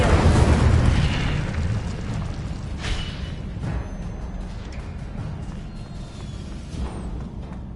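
Incendio fire spell cast in Hogwarts Legacy, a loud fiery whoosh-burst at the start that fades into a steady low rumble, with a few softer bursts following.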